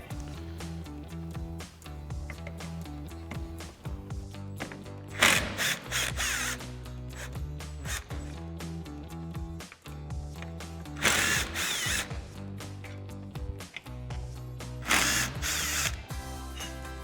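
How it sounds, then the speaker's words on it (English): Impact driver with a T50 Torx bit and extension backing out Torx bolts from Jeep Wrangler JK door hinges, loud bursts of motor whine and rapid hammering impacts repeating several times with short pauses between, close up. "remove the 3 T50 Torx bolts holding each of our hinges in with our T50 Torx bit and extension on our impact"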